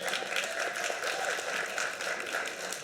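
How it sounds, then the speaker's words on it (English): A live audience at a speech event claps steadily, a dense, even wash of applause throughout. "give him a round of applause"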